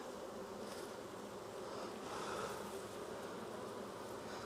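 Honeybees fill an opened hive with a dense, continuous buzzing drone, steady and close throughout, with no other sounds.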